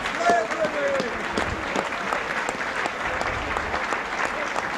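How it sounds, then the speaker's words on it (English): Hull rugby league crowd applauding during a Hull FC versus Warrington match, a broad, steady patter of many hands from the stands, with a whistle-like tone and faint voices early on. "Getting a good round of applause from the Hull contingent."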